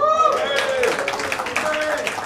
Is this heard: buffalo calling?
no